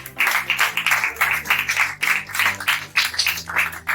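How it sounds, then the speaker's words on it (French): An audience in a school training-centre library claps for a speaker, with strong, rhythmic claps in an even pulse over a sustained tonal hum, close and loud throughout. "Et il mérite d'être applaudi."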